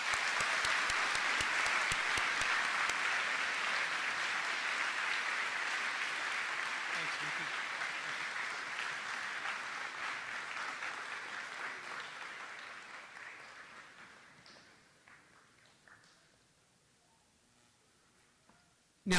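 Audience applause at a senior awards ceremony, a dense steady clapping that holds strong for about twelve seconds, then thins and fades to near silence, with a sharp burst at the very end.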